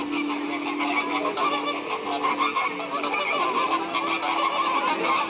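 A flock of flamingos at Sea World honks continuously in goose-like calls, overlapping and fairly loud throughout, with no one talking.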